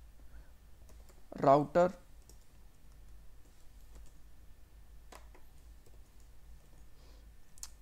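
Code is typed on a computer keyboard for a React app, as a few faint, sparse keystroke clicks at low level, with a brief stretch of talk near the start.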